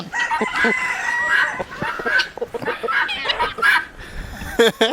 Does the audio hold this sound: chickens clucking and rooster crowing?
yes